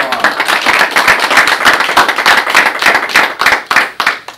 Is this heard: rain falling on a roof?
no